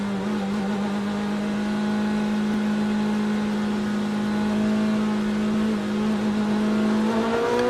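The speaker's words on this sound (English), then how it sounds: "finally the flag flies and Antonio Garcia hurdles his brand new Corvette across the start-finish line" Race cars in the GTD and GTD Pro fields, including a Corvette Z06 GT3.R, at the start of the 2024 Rolex 24 at Daytona: a loud, sustained engine drone whose pitch climbs toward the end.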